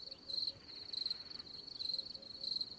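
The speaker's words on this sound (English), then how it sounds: "And I'm putting crickets in there." Crickets chirp in steady, evenly spaced pulses as a continuous sound effect, a thin high trill repeating over a quiet background.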